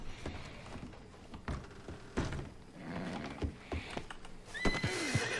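Horse neighing in Red Dead Redemption 2, a loud whinny near the end after scattered hoof clops and rustling game ambience, no talk.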